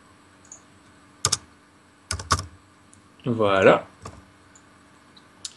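Sharp mouse clicks and short bursts of computer keyboard taps ring out in a quiet room, with one brief spoken word between them.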